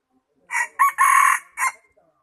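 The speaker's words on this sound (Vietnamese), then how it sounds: "Con này gà hay phết nhỉ." A small mini-breed rooster gives a single short, high-pitched crow in a few broken bursts, close and clear against an otherwise quiet background.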